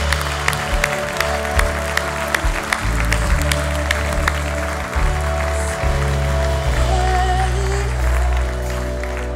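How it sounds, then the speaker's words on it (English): Church congregation applauding after people come forward at a service, sustained clapping throughout, loud and steady with some crowd murmur and a music bed underneath. "the reason they're all applauding is because they know what you're about to enter into"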